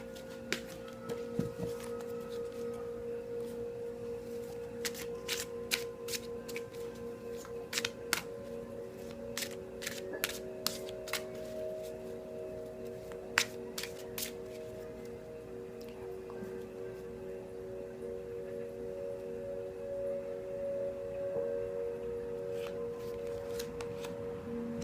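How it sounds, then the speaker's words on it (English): Colette Baron Reed Enchanted Map oracle cards being shuffled by hand, a steady run of soft, papery riffles and flicks close up over a faint continuous hum, with no talking. "I'm going to shuffle the Colette Baron Reed Enchanted Map deck and see an additional theme"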